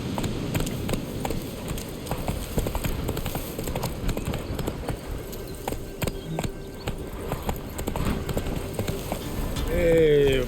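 A horse gallops in The Witcher 3 with steady, repeated hoofbeats. Game music and ambience run underneath, and a swell of sound comes in near the end.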